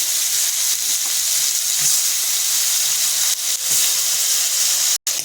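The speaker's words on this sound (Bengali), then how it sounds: "যে সব মশলা মাখানো, তেল মাখানো বেগুনটা দিয়ে দিলাম" Spice-rubbed, oil-coated eggplant pieces go into hot oil for a fish dish and fry with a loud, dense, continuous sizzle close by, briefly cutting out once near the end.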